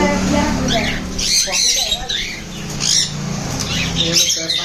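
Pet birds in a bird shop, repeated squawks and chirps from several birds close by, mixed with a person talking over a steady background of chatter.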